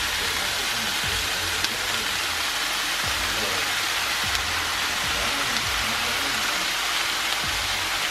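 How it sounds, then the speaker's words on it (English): Chipotle sauce sizzles as it goes into a pan of cooking chicken. A steady, even hiss fills the clip from start to finish, with a few soft low bumps beneath it. "we're gonna go ahead and add the chipotle sauce. So we're gonna pour that in there like so"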